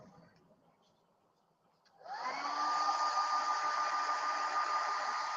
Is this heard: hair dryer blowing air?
yes